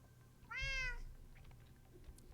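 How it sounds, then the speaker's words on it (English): A single clear cat meow, rising and falling for about half a second, close and alone over quiet room tone, followed by faint soft noises. "Well, meow to you too."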